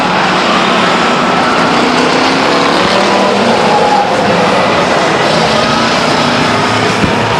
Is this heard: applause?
no